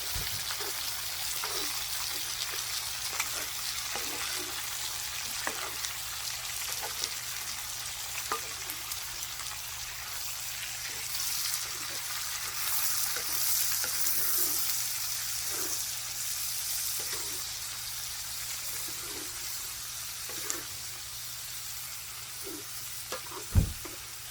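Bacon and corn fry in a pan with a continuous close sizzle and crackle, broken by faint scattered taps and stirring scrapes, with no voices.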